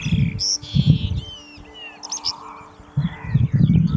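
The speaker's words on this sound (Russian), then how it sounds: "вокруг очень смешно пели полевые жаворонки" Skylarks sing in the open country around an off-grid forest cabin, with bright, high chirping phrases scattered through the clip over low rumbling wind or handling noise.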